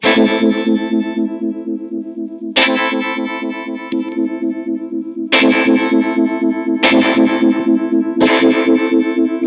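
Electric guitar through Line 6 Helix effects in mono, five distorted chords strummed a few seconds apart, each ringing with a wavering chorus-like pulse before the next.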